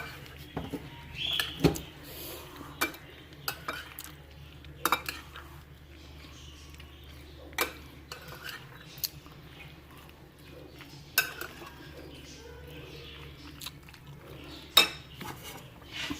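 Macaroni being mixed for a macaroni salad in a bowl, with sparse clinks and taps of a spoon against the dish at irregular intervals over a quiet background, close but soft.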